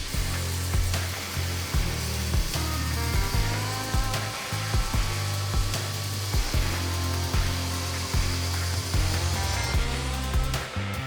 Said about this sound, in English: we'll get in with the grinder and get this cleaned up